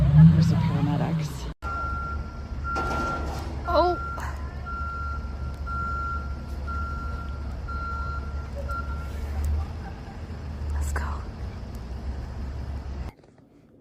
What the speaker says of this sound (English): So now there's a tow truck that came to get it.